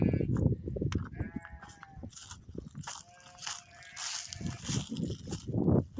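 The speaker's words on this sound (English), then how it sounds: "the sheep and the goats are gonna be like crying for their friends" Sheep and goats on a farm bleat and cry repeatedly for their separated companions, several overlapping wavering calls near and loud, with rustling and shuffling between them.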